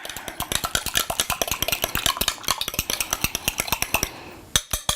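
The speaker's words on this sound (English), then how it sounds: "So I'm going to give that a bit of a stir." A whisk or utensil clinks rhythmically against a bowl as beaten egg is stirred into buttermilk for Irish soda bread, fast steady taps close by, then a brief pause and a couple of final knocks.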